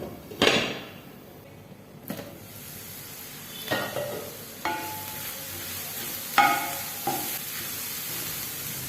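Radish greens sautéing in a pan for a Tamil-style poriyal, a soft continuous sizzle punctuated by several scraping stirs of a spatula and a lid clattering, close and moderately loud.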